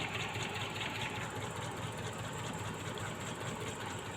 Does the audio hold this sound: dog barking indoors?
no